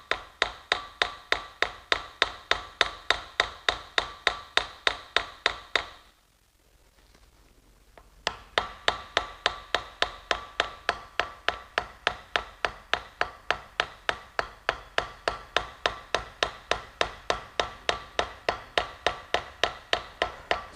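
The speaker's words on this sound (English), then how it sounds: "now I'm just using the ball peen to push these corners down" A ball peen hammer taps a sword handle to set the tang, striking in quick, even, sharp metallic taps about twice a second. The tapping pauses briefly and then resumes at the same steady pace.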